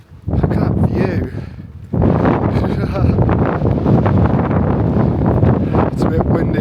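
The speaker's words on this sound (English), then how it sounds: "It's a bit windy up here though." Strong wind roars steadily across a microphone on a hilltop at Consuegra, a loud continuous buffeting rush that dips briefly before surging back.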